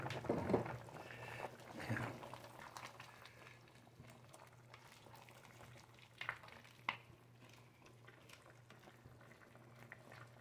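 Chicken kinamatisan broth simmering in a pot at a low, steady bubbling boil, with a few louder clinks and stirring sounds partway through.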